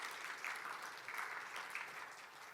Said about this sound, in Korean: 모든 발표자들, 패널리스트 그리고 청중들을 위한 큰 박수 부탁을 드리면서